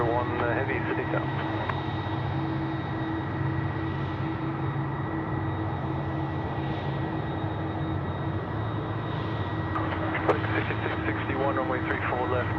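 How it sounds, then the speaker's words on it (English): An Airbus A330 takes off from runway 34 left at Sydney Airport, a steady, loud jet roar that holds for the whole stretch while voices talk over it. "Runway 34 left, clear to take off. 643 going to Perth, the A330."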